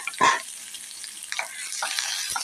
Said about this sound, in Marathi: आता मी याच्यामध्ये एक चमचा तेल घातलेला आहे आणि हा कांदा आपण भाजून घेऊया